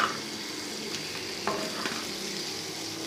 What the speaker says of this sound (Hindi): इसको कुछ देर हम फ्राई करेंगे